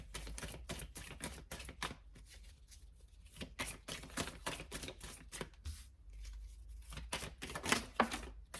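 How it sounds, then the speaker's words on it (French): Oracle cards being drawn and shuffled from a deck: soft, crisp papery flicks and taps in quick irregular bursts, close and quiet, with brief pauses between handfuls. "je prends 3 cartes de l'oracle de la triade"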